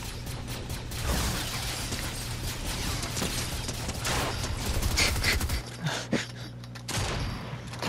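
Video game gunfire from an SMG in a duos match, sustained rattling bursts that run loud for several seconds before cutting out into brief further volleys, with a low steady drone of game sound beneath.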